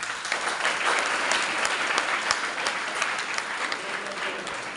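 Audience applause rings out after a recited Hindi poem at a Hindi Diwas event, a steady dense clapping from a crowd that holds evenly for several seconds with no voices over it.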